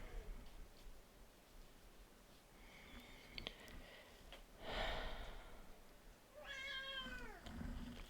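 A cat meows softly indoors, with a faint short call midway and a clearer rising-falling meow near the end, all fairly quiet.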